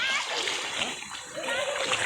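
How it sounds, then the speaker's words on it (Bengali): A child swims and splashes in a pond, producing steady broadband splashing and sloshing water close by, with voices talking over it throughout. "এই সাঁতরাও সুবাইটার সাঁতার"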